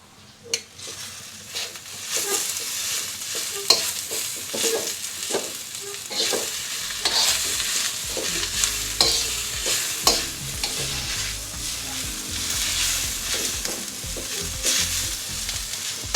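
Soy sauce chow mein with cooked aromatics and ham sizzles loudly in a pan over medium-high heat while being stirred and tossed, with steady frying and frequent scraping clatter and no talking.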